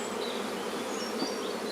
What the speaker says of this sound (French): Je vais compter maintenant les abeilles qui sont là-dedans